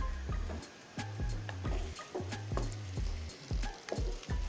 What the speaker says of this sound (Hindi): आप इसमें लगातार चम्मच चलाते रहेंगे